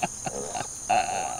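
A few short, low pig grunts with pauses between them, then a longer rough grunt, fairly close with no talking.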